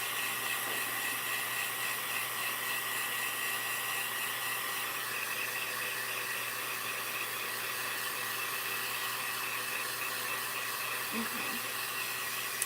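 A blow dryer runs steadily while drying a Christmas ornament, a constant close, loud airy whoosh with a faint motor hum, alone apart from one brief spoken word.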